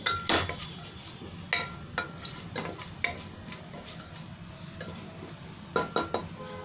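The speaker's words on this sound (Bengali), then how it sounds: "মশলাটা ভাজা হচ্ছে।" Whole spices such as black cardamom and cumin seeds frying in a pan while being stirred with a metal utensil, scattered clinks and scrapes over a low sizzle, close and fairly quiet.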